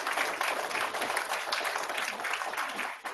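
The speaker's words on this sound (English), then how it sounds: "Give our coaches a round of applause." Audience applause for coaches at a school meeting, a continuous, moderately distant wash of many hands clapping at once that fades slightly at the close.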